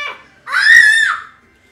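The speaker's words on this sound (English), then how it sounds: "don't scream that loudly" A child lets out one loud, high, piercing scream lasting about a second, close by, during a Super Smash Bros. game between Fox and Toon Link.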